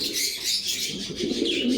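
Pigeons of fancy breeds kept in pairs on a pigeon farm coo in low, soft bursts, with a hiss of high background noise over the whole stretch and no talking.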